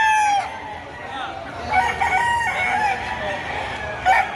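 Roosters crow repeatedly at a chicken market in Padre Garcia, Batangas, with several overlapping calls near and far over a busy background. People talk quietly underneath.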